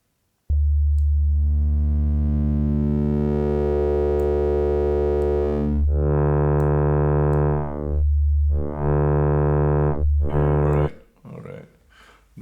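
A Zebra3 synth oscillator plays a sustained sine-like tone as its waveform is rephased, the buzzy harmonic timbre shifting and sweeping, broken by short gaps and ending in a few brief noisy bursts.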